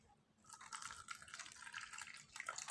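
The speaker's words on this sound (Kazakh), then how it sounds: "Су кішкене құйып қоям." Water poured into a flower pot holding a repotted, freshly rooted houseplant: a steady close trickle and splash running for a couple of seconds, quiet and alone.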